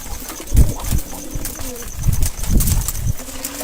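Pet pigeons coo close by while wings flap in several loud bursts, mixed with rustling and scuffling.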